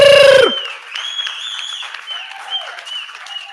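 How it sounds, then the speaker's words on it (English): Audience applause for a panel of speakers at a talk on queer artistic practices and photography, rising after a brief tone and continuing as a steady, moderate clatter of clapping from the crowd. "Please give them a round of applause."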